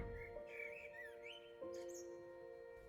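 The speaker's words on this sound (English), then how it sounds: "The birds were singing." Birds chirping and whistling in a sunny outdoor memorial garden during a funeral in the game Lost Words, several short, faint calls over a quiet background.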